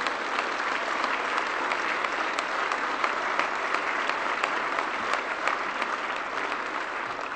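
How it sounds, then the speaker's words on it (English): A crowd at a UKIP leadership results event applauds Nigel Farage, steady dense clapping sustained throughout without pause. "Please give him a round of applause."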